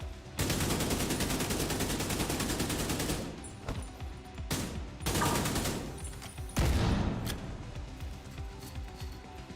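Sustained automatic gunfire in the video game The Division 2, a loud rapid stream of shots lasting several seconds, then shorter bursts with brief gaps and a heavy impact near the end.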